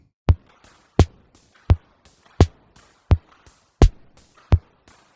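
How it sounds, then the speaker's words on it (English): Drum pattern from a chorus of a song, processed with an unusual delay: a steady run of sharp, loud hits about every 0.7 seconds, each trailed by a smeared, fluttering echo tail with bright high-end shimmer. "I threw in a really weird delay on the drums"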